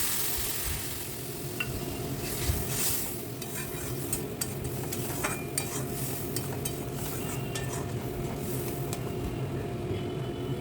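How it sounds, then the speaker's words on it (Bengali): Water goes into a sizzling spice mixture in a pan for a bhetki fish gravy, bringing a continuous hiss under repeated sharp stirring clicks and scrapes, close and without speech. "আমার কষানো হয়ে গেছে, আমি একটু জল মিশিয়ে দিব এটাতে।"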